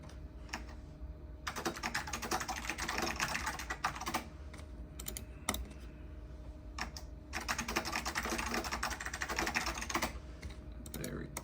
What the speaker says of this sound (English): I like this keyboard a lot, actually.